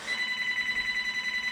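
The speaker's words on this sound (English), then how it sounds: "the phone's ringing" A telephone rings with a steady, sustained electronic tone at moderate level, continuous throughout with no talk over it.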